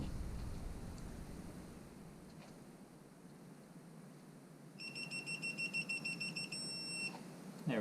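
A steady electronic beeping from a digital torque angle wrench starts partway through, a rapid string of high pulses lasting a couple of seconds over quiet background noise, while fitting a 2007 Mazda 3 cylinder head.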